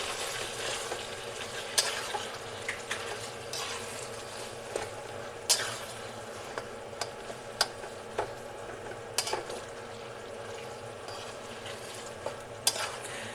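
Minced beef, about a kilo, stirred in a pan for beef cannelloni, with a steady low sizzle and scattered sharp scrapes and clicks of the utensil against the pan, close and alone.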